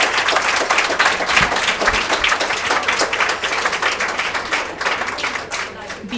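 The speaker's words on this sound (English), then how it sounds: "Let's give another round of applause for our amazing speakers tonight." An audience at an evening talk about women in the Hillwood collection claps for the speakers, giving dense, loud sustained applause that tapers slightly toward the end.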